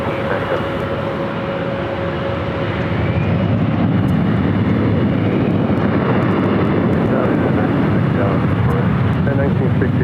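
A jet airliner takes off from a runway at Los Angeles International Airport, its engine roar building from a strong rumble into a loud, sustained broadband thunder that fills the whole stretch.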